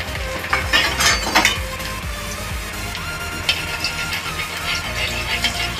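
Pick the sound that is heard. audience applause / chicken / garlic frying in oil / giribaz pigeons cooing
garlic frying in oil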